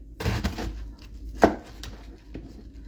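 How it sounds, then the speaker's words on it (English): A knife chopping cabbage on a board, several separate thunks with one sharper cut in the middle, close and fairly loud. "first we're going to get to chopping our cabbage"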